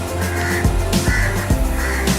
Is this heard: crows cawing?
yes